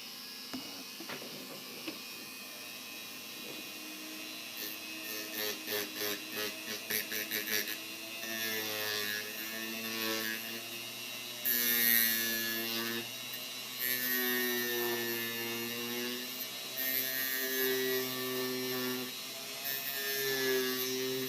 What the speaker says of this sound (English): take that second to last tooth off with my Dremel